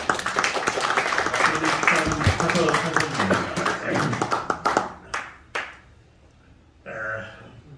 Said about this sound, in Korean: 박수를 좀 하십니다.